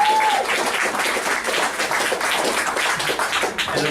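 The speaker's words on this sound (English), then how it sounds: "And a particular warm applause for our candidate, an extraordinary candidate" Warm, loud applause from a crowd at a Conservative Party campaign launch, dense continuous clapping filling the room at close range, steady throughout with no voices on top.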